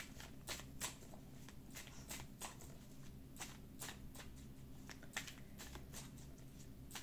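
Tarot cards being shuffled by hand, a quick series of soft riffling flutters and slaps repeating through the whole stretch, close but quiet, with no talk over it.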